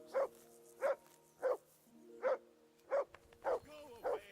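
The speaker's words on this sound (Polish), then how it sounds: "I assume you can hear that damn dog of yours barking" A dog in the medieval role-playing game Kingdom Come: Deliverance II barks repeatedly, seven fairly evenly spaced, sharp, clear barks close by over quiet ambience.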